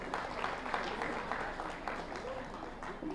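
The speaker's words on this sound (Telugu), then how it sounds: "మనం గట్టిగా చప్పట్లు కొట్టుకుందాం." A hall audience of about 300 people at a meditation meeting at the Taj Mahal Hotel applauds in a soft, sustained patter heard from a distance, with a voice speaking over it.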